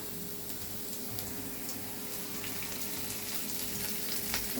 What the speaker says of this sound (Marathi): आता थोडासा लालसर कलर आलाय कांद्याला आता आपण त्याच्यामध्ये कढीपत्ता टाकूया